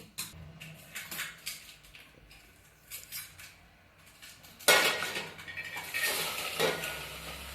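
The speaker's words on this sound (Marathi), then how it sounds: "मी आता गॅसवरती पातेले ठेवून त्यामध्ये ही शिजलेली डाळ टाकून देणार आहे" A pot is set on a gas stove in a home kitchen and cooked dal is tipped into it, giving metallic clanks and scraping of pots and utensils, a louder burst of rattling and clatter midway, close by with no talk.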